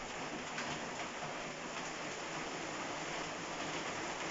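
Heavy rain pouring in Sri Lanka, heard as a faint, even, continuous wash of noise with no other sounds over it.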